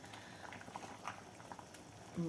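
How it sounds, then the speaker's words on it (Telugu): Okra tamarind stew bubbling in a covered pot, a soft steady simmering patter with small pops, faint and close. "మూత పెట్టేసుకుని పొంగిరానిద్దాం హాయ్ మరిగిపోయింది"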